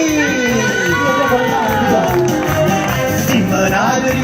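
A festival crowd in a town square near Naples claps and cheers loudly, with shouts and excited voices mixing in over a dense, continuous roar.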